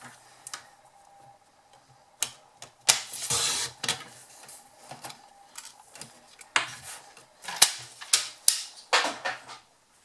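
A paper sentiment being trimmed on a paper trimmer, with a run of sharp clicks and cutting scrapes in uneven bursts, close and fairly quiet.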